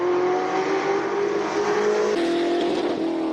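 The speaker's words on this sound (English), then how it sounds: "Currently James Temple in the GT40, 7-litre incapacity, big V8" A classic 1960s Ford GT40 race car with a big 7-litre V8 roars loudly at close range on a hill-climb course, engine note holding steady, then shifting pitch as it changes gear.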